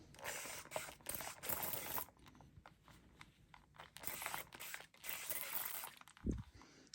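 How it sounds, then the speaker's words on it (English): Several bursts of hissing spray of 91% alcohol onto a knife blade close by, in short pumps separated by brief pauses, ending with a soft thump. "Spray that all down real good."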